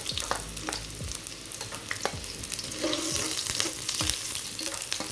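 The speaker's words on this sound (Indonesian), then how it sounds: "Minyak panas, masukkan bawang goreng, bawang yang mau digoreng." Shallots fry in hot oil in a wok, crackling and sizzling loudly and continuously, with repeated clicks and scrapes of stirring on top.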